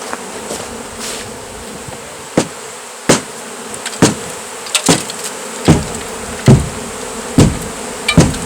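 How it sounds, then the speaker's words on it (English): Hammer striking a massive beehive during removal: a series of sharp, irregular knocks, roughly one per second, over a continuous loud drone of buzzing bees close by. "Maybe I could just hit it with the hammer."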